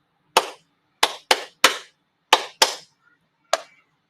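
A class of students clapping a rhythm of quarter and eighth notes in a music lesson: seven crisp, sharp claps in an uneven pattern, two quick pairs among single hits, close and clear with silence between.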